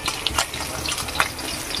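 Eggs fry in hot oil in a pan, giving a steady close sizzle with a few sharp pops and crackles throughout.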